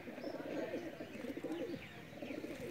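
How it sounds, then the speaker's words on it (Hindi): A Salara pigeon coos close up in repeated soft, throaty rolling phrases, one after another. "सलारा कबूतर है"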